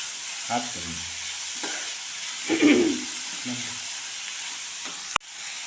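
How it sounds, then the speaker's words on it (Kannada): Ginger garlic paste frying in a pan for an egg stir-fry, a soft steady sizzle with a few scraping stirs, under a voice, ending in a sharp clack. "ಇವಾಗ ಸ್ವಲ್ಪ ಕಲರ್ ಚೇಂಜ್ ಆಗೋವರೆಗೂ ಬೇಯಿಸ್ಕೋಬೇಕು ಶುಂಠಿ ಬೆಳ್ಳುಳ್ಳಿ ಪೇಸ್ಟು"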